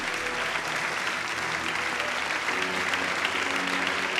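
Church congregation applauding during a revival sermon, a steady dense wash of clapping that holds evenly throughout, with faint tonal background underneath and no clear speech.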